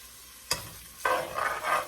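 Sliced onions go into a hot pan for a cabbage dish, with a sharp clatter and then a bright, crackling sizzle that swells in waves as they are stirred, close and clear with no talking.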